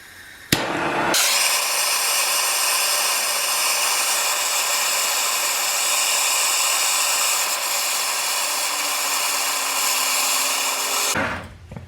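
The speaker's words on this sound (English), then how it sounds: "I'm going to go ahead and grab the torch, and as we start to heat it up" A torch heating a nylon lock nut on a sway bar end link of a Dodge Grand Caravan gives a steady, loud roaring hiss that holds for about ten seconds, then cuts off abruptly.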